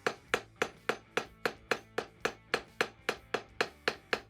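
A hammer taps hot steel while a rounding punch is forged from flat to round, about fourteen sharp, evenly spaced ringing strikes, close and loud, with no talking.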